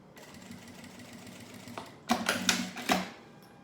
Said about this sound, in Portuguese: Deixa eu voltar aqui pra costurar ela desde o início